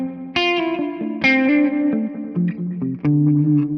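Guitar played through a Tonex spring reverb set to a darker color, a few plucked notes and chords with smooth, subdued tails that ring under each other, played alone.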